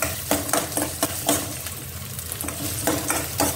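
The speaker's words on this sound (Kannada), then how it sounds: "ಇದು ಹಸಿ ಮೆಣಸಿನಕಾಯಿ ಮತ್ತೆ ಕರಿಬೇವು ಇದೆಲ್ಲ ಹಸಿ ಹೋಗೋ ತರ ನೀವು ಸ್ವಲ್ಪ ಚೆನ್ನಾಗಿ ಹುರ್ಕೋಬೇಕು" Green chillies and curry leaves sizzle steadily in hot oil, with a dense continuous frying crackle broken by repeated stirring scrapes of a spoon against the pan, close and fairly loud, no voices.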